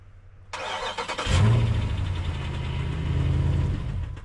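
An off-road rock crawler engine, just back together after its spark plugs were pulled, cranks briefly then catches and settles into a loud, steady, rumbling idle close by.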